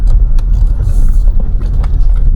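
A vehicle creeps down a very steep mountain road near Nong Khiew, Ngoi district, Luang Prabang, in its lowest gear, a steady loud low engine rumble with road noise throughout.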